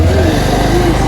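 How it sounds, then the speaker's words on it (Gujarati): A motorcycle being ridden gives a steady, close engine drone that holds constant for about a second with no clear revving. "પપ્પાને બાઈક ચલાવ્યું"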